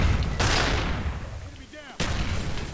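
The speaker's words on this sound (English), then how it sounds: "There's another random grenade kill." Grenade blasts in Call of Duty Black Ops, two loud booming explosions with rumbling decay, the second cutting in sharply after a brief lull, close and heavy amid game battle noise.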